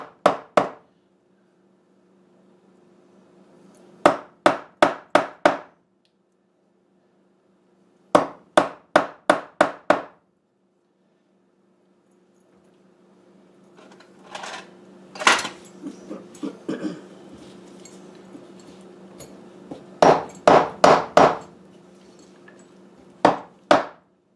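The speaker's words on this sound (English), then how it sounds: "I have a chisel here, so we'll just kind of cut a hole here" A mallet strikes a chisel into an old wood door, cutting a lock hole, in tight clusters of sharp, ringing knocks, with short pauses and some scraping of wood between bursts.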